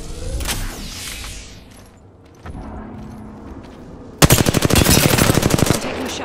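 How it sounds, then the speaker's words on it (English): Apex Legends gunfire: a few sharp shots and clatter come first, then a dense, loud burst of rapid automatic fire with evenly spaced cracks runs through the last two seconds. "I'm taking shots."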